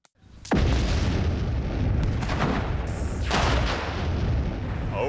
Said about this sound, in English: The dynamite explosion was, well, dynamite.